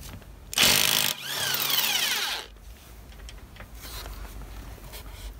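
A cordless impact wrench loosens a car wheel bolt in a burst of loud, high, buzzing hammering that runs about two seconds, then fades to a quieter whir and faint handling noises.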